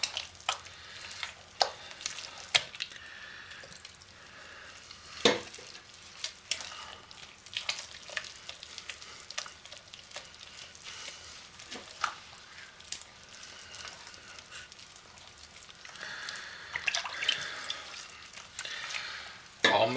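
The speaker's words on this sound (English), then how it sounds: "you just keep stirring it and the soap absorbs it" Hot process soap gets stirred in a pot, with repeated scraping and clicking strokes and a soft bubbling hiss running through the whole stretch, close and fairly quiet.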